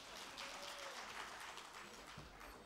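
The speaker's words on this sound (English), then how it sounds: "Please give them a round of applause," Conference audience applauding traditional Nepali music performers at an international infrastructure event's inauguration, a steady wash of many hands clapping at moderate distance throughout, with no voices over it.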